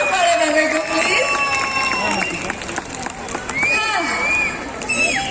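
A crowd at the first-year anniversary celebration of UK Naveen Dance Studio cheers, whoops and shouts, with scattered clapping and high children's cries in a lively, continuous din, and voices mixed into the noise.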